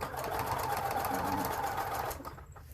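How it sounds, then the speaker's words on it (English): A sewing machine stitches through thick denim jeans on a quilt with polar fleece backing, whirring in a fast, steady run for about two seconds before it stops. "I'll just help guide the fabric just to make sure that it's going to make it through and the pressure foot doesn't get stuck on top of it"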